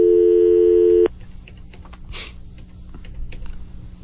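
A phone call goes unanswered: a steady repeating tone sounds loudly for about a second, then cuts off, leaving faint clicks and soft room noise.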